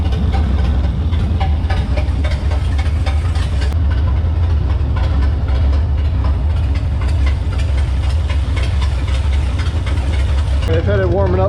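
A Triple 7 engine idling as it warms up in a garage, a loud, steady low rumble with uneven knocking pulses and no revving, running continuously throughout.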